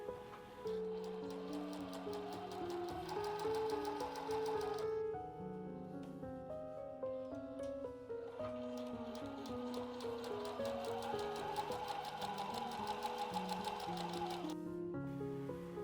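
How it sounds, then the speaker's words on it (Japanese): A sewing machine runs in steady bursts, a rapid mechanical whir and clatter of stitching with a brief pause midway, close by. "ここミシンで最初に縫います。"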